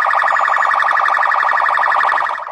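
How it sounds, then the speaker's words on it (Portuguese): A police car siren wails loudly nearby on Avenida Paulista in São Paulo, a rapid repeating warble that holds steady for a couple of seconds and then starts to fade. "Primeiro ligou a sirene."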